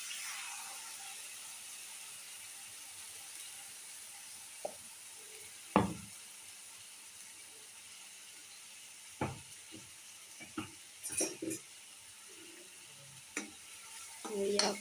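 Ground spice paste thinned with a little water is stirred in a pan, producing a quiet steady sizzle broken by occasional sharp scrapes and taps of the spoon, close and fairly faint.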